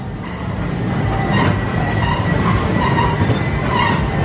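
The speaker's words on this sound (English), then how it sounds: "There's a little tracked ride just over here." A small tracked kids' ride at an indoor theme park rumbles past with a continuous rolling, rattling roar and faint squeals of wheels on rails, fairly loud and close.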